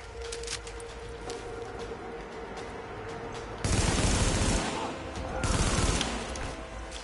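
Bursts of gunfire in The Division video game, a dense fusillade of shots that swells loudly in the second half over a busy background, with occasional voice chatter.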